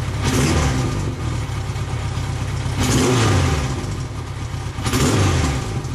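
A motorcycle engine treated with fuel additives and octane boost, heard up close as a loud, rough running engine that surges in three repeated revs, each rising and falling over a couple of seconds.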